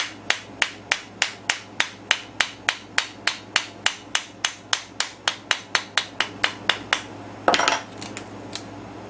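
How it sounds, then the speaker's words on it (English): A plastic hammer taps around the edges of a new diamond dresser, giving a steady run of about two dozen evenly spaced, crisp knocks, close and clear, followed by a brief rougher clatter near the end. "this my plastic hammer because I don't want to roll the edge on my new dresser, but I'm just tapping it around"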